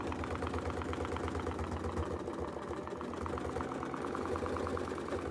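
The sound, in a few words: sewing machine stitching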